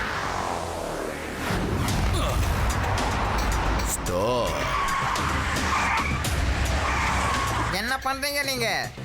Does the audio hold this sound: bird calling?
no